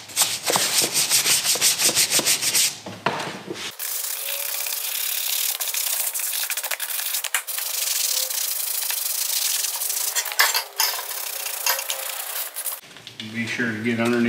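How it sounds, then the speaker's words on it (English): A brush scrubs grime off the metal D-rings and hardware of a leather saddle in a steady, close rasping rub, with a brief change of sound partway through and at the end. "Try to scrub your hardware. A lot of times this the D-rings and stuff will have grime stuck on them."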